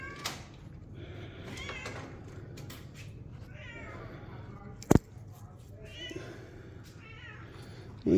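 A cat in the old city of Jerusalem gives several close, clear meows spaced across the moment, with people talking nearby and a sharp knock midway.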